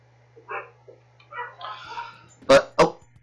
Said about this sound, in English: That's my doggies barking.